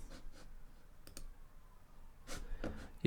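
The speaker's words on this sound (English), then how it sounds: "click on this plugin" A few sharp mouse clicks land close and crisp in a quiet room, while a vocal compressor plugin is opened in Pro Tools.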